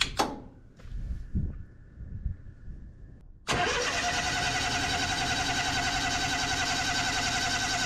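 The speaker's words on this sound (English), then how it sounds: "I figured it would have to crank for a while because the propane lines aren't full." Propane generator engine turning over on the starter after a few faint clunks and a brief hum, then a loud, steady cranking drone that runs continuously to the end, close by with no talking.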